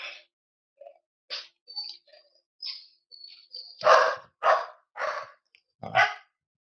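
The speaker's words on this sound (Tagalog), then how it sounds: "Sorry sa ingay ng aso." A dog barks loudly and nearby, a run of five sharp barks in the second half after a few quieter yips and whines, with no talk over it.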